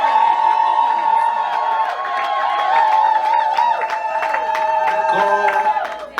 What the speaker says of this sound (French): Aidez-moi d'applaudir avec les Milolo.